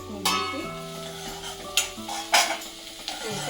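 Onions frying in a pan for an omelette curry, a low sizzle broken by several sharp metallic stirring scrapes and clinks of a spoon against the pan, close and moderately loud, with a steady background hum and no talking.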